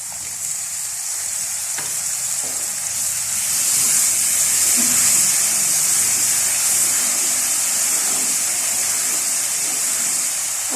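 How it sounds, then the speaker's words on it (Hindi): Masala spices fry in a pan with a little added water for a spinach, potato and chicken curry, giving a loud, continuous sizzle that swells in the middle and then holds steady, with no talking. "और मसाले को अच्छी तरह भून लेंगे।"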